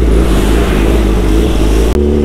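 A Kawasaki ZX-10R motorcycle engine revs hard at high RPM, producing a loud, steady, close roar that cuts off abruptly near the end and then returns to a lower idle.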